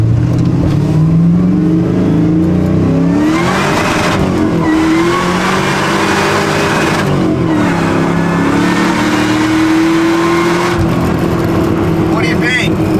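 An LS-swapped Saab truck rumbles loudly as it revs and pulls away, engine pitch climbing through several shifts up close, with people talking over the roar.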